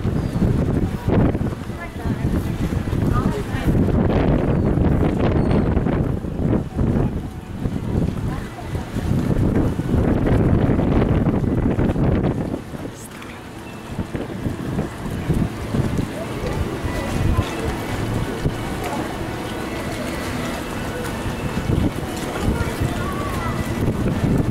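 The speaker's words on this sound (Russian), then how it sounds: "Ветер меня сдувает" Gusting wind buffeting the microphone by a harbour where small boats leave for fishing, a heavy rumble that rises and falls over about 24 seconds while a person talks.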